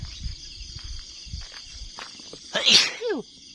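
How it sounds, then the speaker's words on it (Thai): One sharp human sneeze bursts out near the end, loud and close, after quiet outdoor ambience with faint insect chirps and soft rustling footsteps on a damp morning. "นะจามซะเลย"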